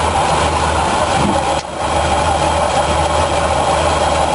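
A car engine idles steadily and loudly as its AC compressor clutch is switched on and off, with a brief dip and recovery in the drone around the midpoint.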